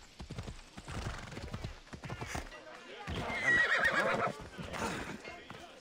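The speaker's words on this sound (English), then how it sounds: "if you didn't want a horse running around here or galloping around here" Hooves clip-clop in quick rhythm while a horse neighs loudly partway through, with a person talking intermittently over the galloping, in the video game Assassin's Creed Odyssey.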